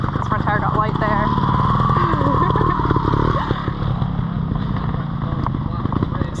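A trials motorcycle's engine drones and revs steadily up close as the rider wheelies up over tree roots on a trail section, with talking mixed in.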